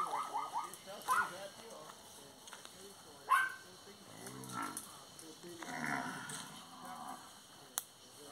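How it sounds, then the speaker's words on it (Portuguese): An ox on a small farm lets out a couple of low, drawn-out moos midway, moderately close, amid scattered outdoor rustles and other farm noises. "Olha lá o boi."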